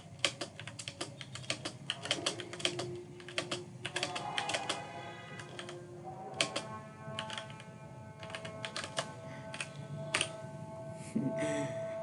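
Rapid, uneven bursts of keystrokes on a computer keyboard while C++ code is typed in Visual Studio, close and fairly clear, with short pauses between runs of keys and no talking.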